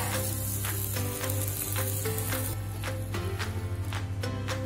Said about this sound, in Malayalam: ഇനി ഒരു ലിഡ് ഉപയോഗിച്ച് മൂടി ഇത് വേവിച്ചെടുക്കണം.